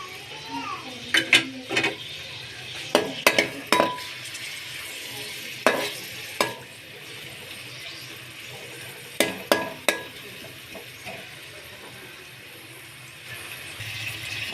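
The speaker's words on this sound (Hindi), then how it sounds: "अच्छे तरीके से आपने प्याज को गोल्डन ब्राउन करना है।" Onions frying in half a cup of oil in a kadhai for a dhaba-style cauliflower sabzi give a steady low sizzle, broken by sharp clinks and scrapes of a spoon stirring against the pan.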